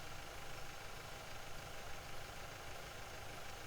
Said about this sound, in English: This is the John Deere 5085. Kind of a nice looking tractor here.